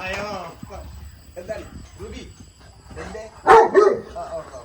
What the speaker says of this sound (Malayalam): ആ നായുണ്ട് കേട്ടോ